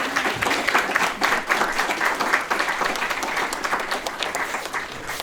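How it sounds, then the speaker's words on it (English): An audience at a law school exploration event claps steadily for the panelists, a dense, moderately loud round of applause that tapers slightly over about five seconds. "can you all join me in giving them a round of applause for taking time?"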